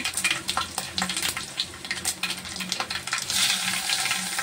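Cumin, mustard seeds and curry leaves sizzling in hot oil, a dense continuous crackle and spatter with small popping bursts, close and fairly loud, swelling toward the end.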